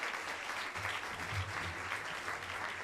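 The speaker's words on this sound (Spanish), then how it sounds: "A los presentes brindémosle un fuerte aplauso a ambos equipos." An audience at a 2015 debate competition gives both teams steady, dense applause that holds evenly for the whole stretch, heard fairly softly as if from a distance.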